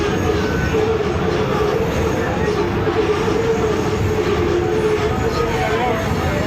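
Shah Latif Express train at Tando Allahyar railway station, a steady, loud rumble of rolling stock and wheels on rails continuing throughout, with a constant low drone.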